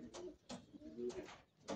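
Soft, close pigeon coos in a slow repeating rhythm, four muffled throaty calls with short pauses between them.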